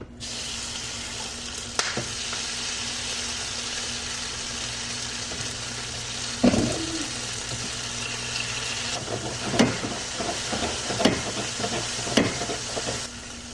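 Chipotle sauce simmering in a pan gives a steady close hiss broken by scattered sharp pops and spits, growing more frequent toward the end.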